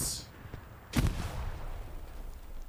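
A grenade bursts in a sharp, loud crack amid scattered gunfire on a World War II battlefield in the online shooter Hell Let Loose, followed by a rumbling tail and distant shots.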